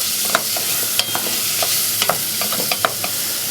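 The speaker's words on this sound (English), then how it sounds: "And we'll just let those soften now in the saucepan." Onion, garlic and red capsicum sautéing in a saucepan, a continuous close sizzle broken by repeated scraping and tapping of a utensil stirring the vegetables.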